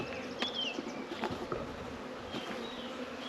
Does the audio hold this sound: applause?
no